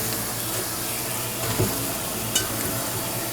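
Diced onions and garlic frying in olive oil with bay leaves and salt, a steady close hissing sizzle with a couple of brief stirring clinks.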